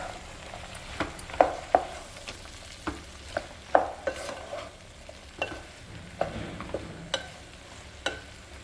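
Brinjal pieces and green peas are stirred in a frying pan for an eggplant and pea curry, with a spatula scraping and clicking in an irregular rhythm over a faint sizzle, close up and with no talking.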